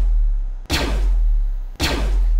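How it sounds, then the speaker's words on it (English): A DC-15 blaster prop from a Clone Commander costume build plays its firing sound effect twice in a row. Each shot is a loud, sharp burst that decays quickly over a steady low hum. "If I was to hold down the trigger to get an automatic blaster rifle sound"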